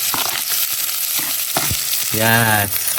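Chopped shallots frying in a pan for a chicken recipe, a close, dense sizzle with stirring knocks and a short tonal squeak near the end.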